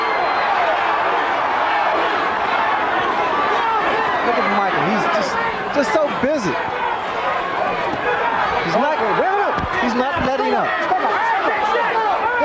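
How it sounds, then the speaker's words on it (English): Boxing arena crowd roaring and chattering at a heavyweight title fight, Larry Holmes against Michael Spinks, a dense, continuous wall of cheering close around with commentary voices mixed under it throughout. "This crowd is absolutely electric right now."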